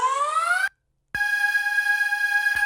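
Bright sustained hover synth chord for a remix, dry and unprocessed, with a rising glide at the start, a short gap of silence, then a steady held tone.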